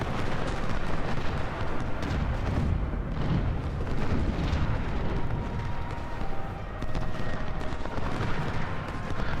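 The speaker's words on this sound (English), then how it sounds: "Order Walton to fire into the back of Ransom." Massed artillery and gunfire in the Civil War strategy game Ultimate General, a dense, continuous roar of overlapping booms and rumbling blasts that stays loud and unbroken throughout.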